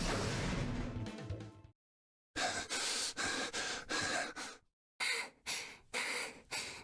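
Two characters panting in the game Zero Escape: Virtue's Last Reward, heavy breathy gasps and snorts coming in close bursts, broken by two brief silent gaps.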